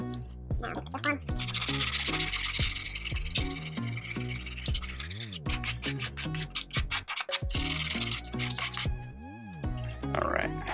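Rhythmic hand sanding of carbon fiber, rubbing and scraping strokes repeating in quick back-and-forth passes, close by, with short pauses between bursts.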